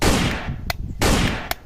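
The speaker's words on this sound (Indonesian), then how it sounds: "This is red shotgun!" A red toy softgun shotgun firing loudly: two sharp bursts about a second apart, each followed by a crisp snap, close and dry.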